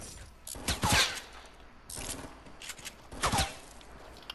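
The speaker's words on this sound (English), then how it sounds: "Or is the guy shooting behind me?" Fortnite gunfire coming from behind the player, several sharp bursts of rapid shots in separate volleys with quieter gaps between them, at close to medium range.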